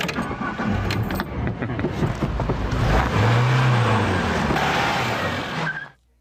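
A Fiat Doblô drives in a car advert, its engine loud and steady throughout as a gear change swells the pitch midway, with jangling and road noise over it before it cuts off abruptly near the end.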